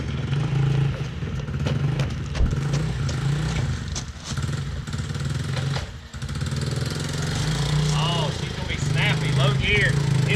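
A Coleman AT125UT ATV with a swapped-in engine on a test run: a close, steady idling chug with loose mechanical clatter, dipping briefly midway before settling back, with faint voices in the background.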